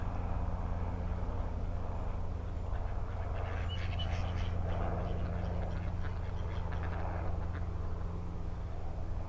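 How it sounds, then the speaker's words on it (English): A flock of ducks gathering on a river at Offord, with scattered quacks and splashy calls drifting over a steady low background hum, moderately distant and continuous. "Blimey, a lot of ducks."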